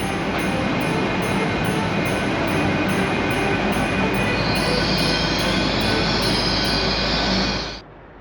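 A train arriving slowly at a station rumbles steadily nearby with a rushing, grinding roar and a faint high squeal, then the sound cuts off abruptly.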